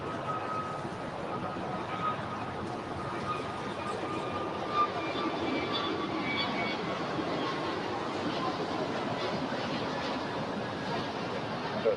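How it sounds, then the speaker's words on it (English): Jet airliner departing LAX runway 25 right behind an American A321, a steady broadband roar held at constant level throughout, with a faint tonal whine above the rumble. "She will be the next departure after this American A321."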